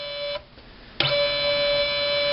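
A small motor drives a torque sensor on an ISO-594 test assembly machine, giving a steady electric whine that cuts out briefly and restarts with a click, close and alone.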